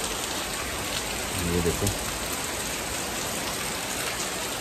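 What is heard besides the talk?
morning rain falling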